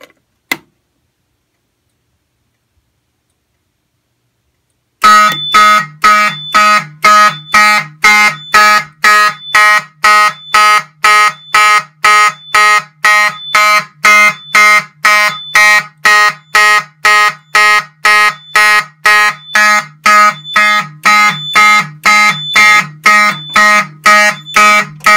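During a system test, a fire alarm comes on after a few seconds of silence and blares loudly and steadily in a rapid, evenly pulsed electronic tone that repeats without pause for the rest of the clip.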